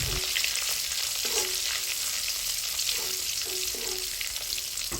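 Dried red chillies and a bay leaf stir-frying in hot oil in a pan, a continuous close sizzle with several short scraping strokes of a spoon against the pan.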